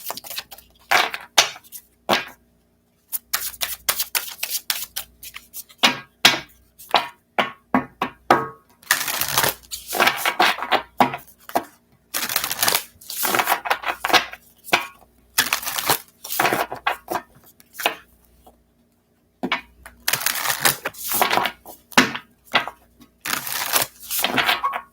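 An affirmation card deck is shuffled in bursts of quick, crisp riffling clatter, close to the listener, separated by short quiet pauses.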